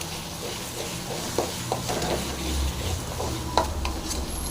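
Ginger and garlic frying in a pan for a Tamil-style pork dish, a steady low sizzle broken by occasional scrapes and knocks of a spoon stirring against the pan, heard close with no talking.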